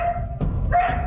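A dog barks twice in quick succession at close range, sharp and fairly loud, with no talking.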